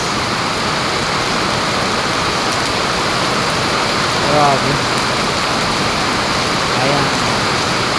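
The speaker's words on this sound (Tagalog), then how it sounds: "ang lakas ng ulan" Heavy rain pours steadily in a dense, even hiss, with rushing runoff water close by and a brief spoken exclamation partway through.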